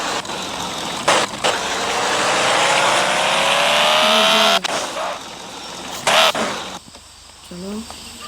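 Car engine in the video game Car for Sale Simulator, its loud whine climbing steadily in pitch as the car speeds up, then cutting off abruptly, with short bursts of revving and faint talk afterward.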